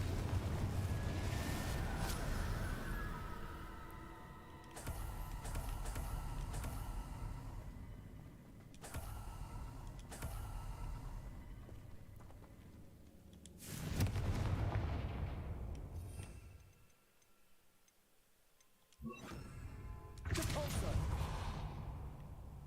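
Spell blasts from the Confringo blasting curse in the Hogwarts Legacy video game, loud bursts repeating over the clip with brief gaps between them and a quieter stretch near the end, among game sound.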